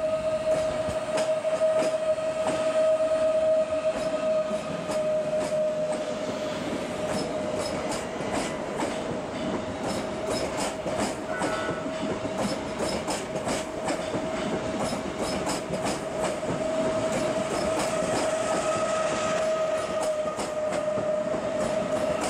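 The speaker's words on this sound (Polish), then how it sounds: "pociąg osobowy do stacji Ciechanów wjedzie na tor" A passenger train rolls into a station with steady rumbling, rhythmic clickety-clack of wheels and a sustained high squeal of brakes, fairly close.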